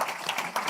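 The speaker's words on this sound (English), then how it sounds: "A warm round of applause to our panelists," Dense applause from an audience for panelists at a launch event fills the whole brief moment, steady and close with no pauses.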